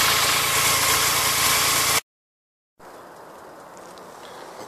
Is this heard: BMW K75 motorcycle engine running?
yes